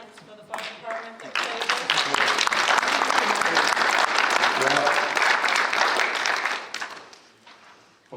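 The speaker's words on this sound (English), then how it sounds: "I thought that we should give Matt Walker and the fire department a round of applause" Sustained applause fills a town meeting hall for the fire department, a dense, steady clapping crowd that builds quickly, holds for several seconds, then tapers off.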